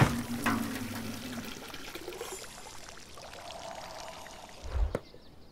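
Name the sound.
water poured into a bucket in a video game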